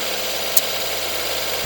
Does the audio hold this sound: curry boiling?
no